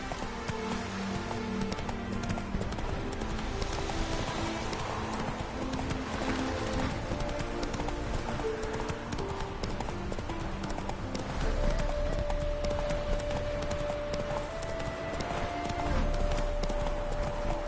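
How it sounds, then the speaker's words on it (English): Hooves of a galloping horse in The Witcher 3 drum steadily over a dense game soundscape with rain and ambient noise, continuous and fairly loud throughout. "Run, Roach."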